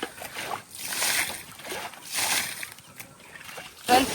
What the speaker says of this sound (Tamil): தண்ணி குறைஞ்சதுனால தண்ணியே இறச்சிக்கிட்டு இருக்கோம்.